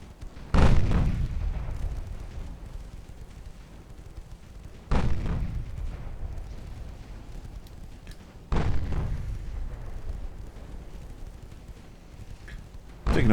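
Warship main guns firing in the naval video game Ultimate Admiral Dreadnoughts, three heavy booming salvos spaced a few seconds apart, each with a rumbling decay, while a player talks between them.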